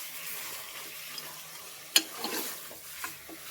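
Marinated mutton being stirred in a pan for a Telangana-style thick gravy curry, a soft sizzle under scraping strokes, with one sharp clink of the spoon against the pan and a few lighter knocks.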